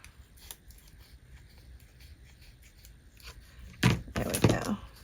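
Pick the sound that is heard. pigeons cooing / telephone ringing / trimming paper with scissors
trimming paper with scissors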